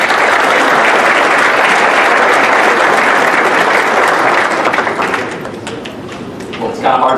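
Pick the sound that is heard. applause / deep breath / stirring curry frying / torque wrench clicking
applause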